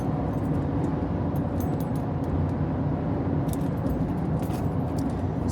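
Defense keychains jangle and rattle in bright, irregular bursts over the steady low rumble of road noise inside a moving car.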